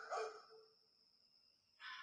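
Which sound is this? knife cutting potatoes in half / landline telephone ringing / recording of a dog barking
recording of a dog barking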